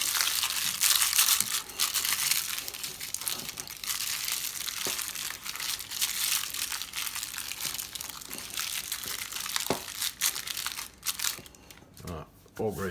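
Baking paper smeared with butter crinkles and rustles against a baking dish as it is being greased, a steady close-up crumpling noise lasting throughout, with faint voice in the background.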